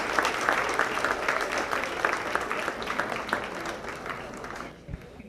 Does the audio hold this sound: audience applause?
yes